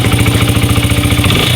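A 1982 Honda XR80 dirt bike engine runs right after a first-kick start, a loud, close, steady buzzing putter with no voices.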